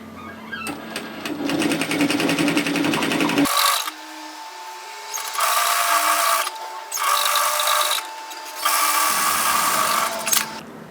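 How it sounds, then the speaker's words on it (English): A domestic sewing machine stitches a seam through knit fabric on a garment, running loudly and close in four bursts of rapid mechanical whirring separated by brief pauses. "Come to your plain sewer and stitch that into place through the overlocking line."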